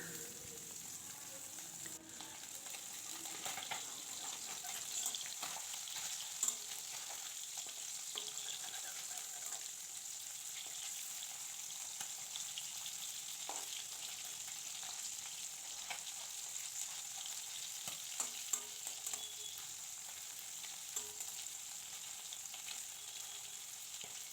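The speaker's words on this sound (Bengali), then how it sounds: "তারপর মাছগুলো নুন হলুদ মাখিয়ে ভাজা করে নেব।" Small puti fish coated in salt and turmeric fry in oil, a constant, even hiss of sizzling with occasional faint crackles and light stirring ticks, steady and fairly quiet for the whole stretch.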